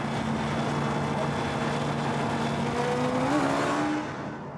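A 2021 Suzuki Hayabusa at Sywell Aerodrome accelerating flat out, a loud sustained engine roar with rising pitch as it pulls through the revs, fading slightly at the end.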